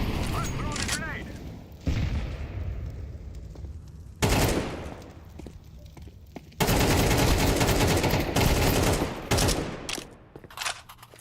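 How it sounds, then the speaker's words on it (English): A grenade is thrown and explodes in Counter-Strike 2, alongside loud bursts of gunfire and blasts arriving in heavy clusters separated by brief lulls. "I'm throwing a grenade"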